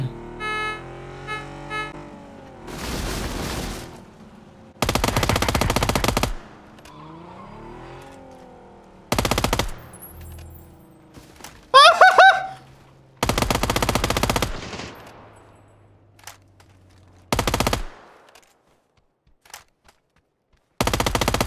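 Loud bursts of automatic gunfire in a Rondo-style shooter video game come in several separate sustained volleys, with car engine and tire noises from the game in the gaps between them.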